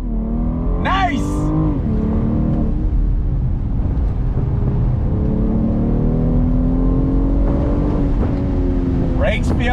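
A BMW M440i convertible with traction control switched off accelerates hard, its engine note climbing in pitch through the gears, loud and close, with excited voices whooping over it.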